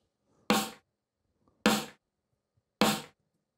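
Three isolated snare drum hits sampled from a song, evenly spaced just over a second apart, each a sharp crack with a short decaying tail against silence.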